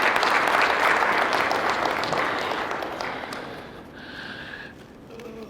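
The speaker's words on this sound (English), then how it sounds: "I think His Excellency deserves a round of applause for" Loud crowd applause for the Edo State governor fills the room, strong at first and then thinning to scattered claps toward the end.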